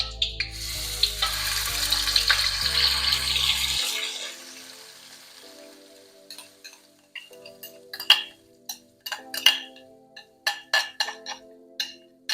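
Dense, hissing sizzle of a spice paste for chicken rendang hitting hot oil, settling into softer crackles and scattered pops with no voices.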